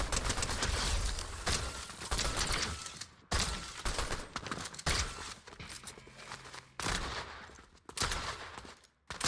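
Gunfire rings out in a shooter video game at relatively close range, in loud bursts of rapid shots separated by brief pauses, with the last burst cutting off sharply near the end.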